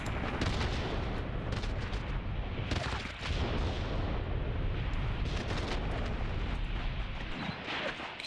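ZiS anti-tank guns firing at infantry in Graviteam Tactics, a dense, loud, continuous battle roar of gunfire and blasts with brief dips, no voices over it.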